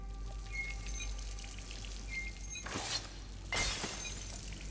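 Glass whisky bottles shatter in the video game Dishonored, two sharp crashing bursts about a second apart over a low, steady game ambience.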